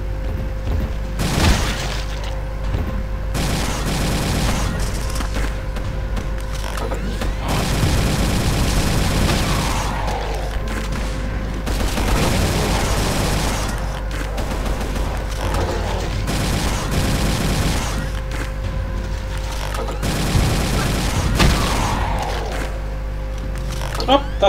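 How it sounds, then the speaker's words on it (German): Dual-wielded gunfire in the video game Brutal Doom on FreeDoom II: repeated bursts of loud shots and booms with mechanical clatter, continuing under someone talking. "Mit zwei zu schießen ist echt ineffizient."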